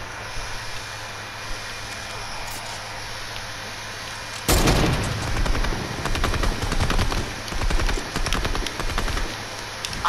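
Gunfire in the video game Fortnite. After a quiet stretch, a sudden loud volley of rapid automatic shots erupts midway and continues in bursts to the end.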